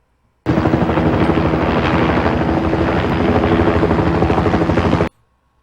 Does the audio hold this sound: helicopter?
yes